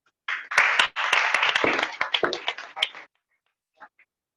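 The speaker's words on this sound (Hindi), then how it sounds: "देखिए तालियां बहुत कम है आप लोगों की" Small audience at a Jain religious seminar in a study hall gives brief, sparse clapping for about three seconds, then a couple of faint isolated claps.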